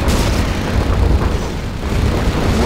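A barracks blown apart in the video game Command & Conquer Zero Hour: a loud, close, broad explosive boom that rumbles on as debris and fire roar throughout, with no voices.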